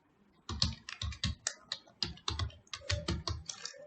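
Fast clattering keystrokes on a computer keyboard while setting up a sign-in screen for a WhatsApp clone app, bursts of close, crisp clicks running steadily with brief pauses and no talk.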